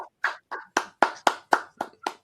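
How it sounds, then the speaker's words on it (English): Slow, deliberate hand clapping of about nine claps at an even pace, fairly close and quiet, given as a mock golf clap by someone watching a Bulls preseason game stream. "I'll give that a golf clap"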